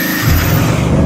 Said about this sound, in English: Off we go. Bit of tyre spin there.